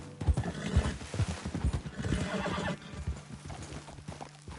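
Horses galloping in Red Dead Redemption 2, rapid heavy hoof clip-clops with a neigh, loud and close, slowing toward the end as the riders pull up.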